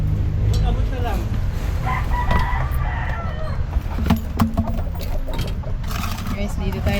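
A rooster crows among clucking chickens behind a chicken coop, the calls rising over a busy outdoor background with a voice talking now and then.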